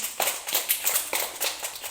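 A group of children at the end of a home-taught lesson claps hands in short, uneven bursts of sharp claps, a few at a time, fairly close and moderately loud.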